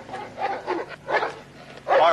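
A dog gives a string of four or five short barks and yips at fairly close range, spaced unevenly, the last one loudest.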